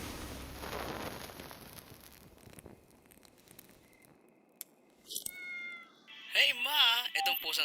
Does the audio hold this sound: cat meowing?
yes